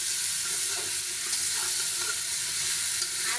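Vegetables frying in a pan hiss steadily and loudly up close while being stirred, with soft scraping strokes rising every second or so. No talking.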